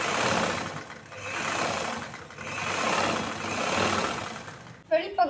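A sewing machine top stitches a choli in bursts, its motor whirring in several swelling runs with brief pauses between, followed at the end by a short voice.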